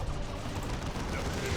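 Dense sustained gunfire and explosions rumble through a Warhammer 40k: Dawn of War 2 battle, a thick continuous roar of overlapping shots with murmured voices faintly mixed in.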